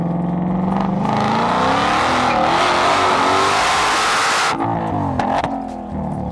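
A Ford Mustang Shelby GT500 engine roars loud and close as it accelerates hard, pitch climbing through a sustained rev before cutting off abruptly and settling into a lower, rumbling idle.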